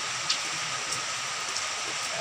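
Steady rain falls on a muddy, landslid yard at the edge of a rising end-of-year tide, a soft continuous hiss with faint scattered patters, quiet and without voices.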